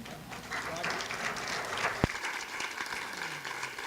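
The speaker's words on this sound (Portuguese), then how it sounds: "Deixa as palmas." Seminar audience on arts, culture and education in Latin America applauding, a dense burst of clapping that fades quickly under a speaking voice.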